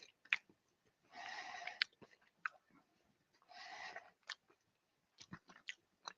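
Someone chews oak-matured sheep and goat milk feta cheese, with close, quiet mouth sounds, small bites and a couple of longer breathy passages between pauses.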